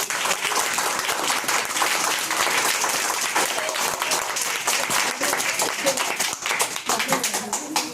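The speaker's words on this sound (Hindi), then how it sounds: "तो एक बार रवि जी के लिए जोरदार तालियां है।" Students at a school book-distribution event clap loudly, a dense, continuous burst of many hands that stays strong for several seconds, with a few voices underneath.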